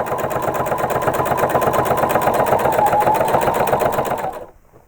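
A sewing machine with a walking foot stitches the facing onto a quilt, a loud, fast, even mechanical whir running close and steady before stopping abruptly near the end.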